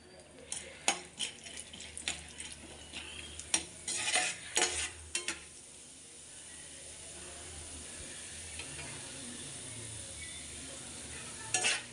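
Chana dal fries in a pan with a steady sizzling hiss, interrupted in the first half by repeated sharp clinks and scrapes of a spoon against metal, then settling into a continuous even fry.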